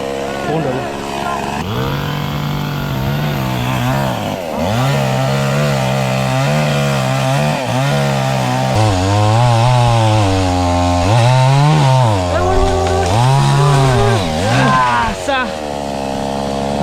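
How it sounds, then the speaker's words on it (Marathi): A chainsaw runs steadily and loudly up close while cutting down a dhaman tree beside a village road, its engine pitch rising and falling as it bites into wood, with a voice speaking over it. "तो झाड तोडतोय बघा मशीनने तोडतोय मशीनने"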